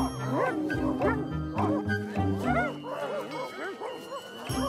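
A cartoon dog in a Garfield episode barks repeatedly in a quick, yapping rhythm with whimpery yips, loud and close, mixed with cartoon voices and background music.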